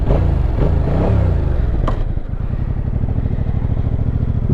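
A Yamaha MT-07 motorcycle revs hard while being ridden, the engine climbing in pitch and then dropping into a steady, loud, pulsing chug heard up close.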